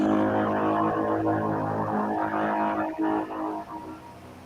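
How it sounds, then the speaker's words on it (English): Low droning horn tone with a buzzing, didgeridoo-like timbre, sustained and loud, wavering slightly before tapering off near the end. "that's just what it sounds like as a didgeridoo instead of the other stuff that I had."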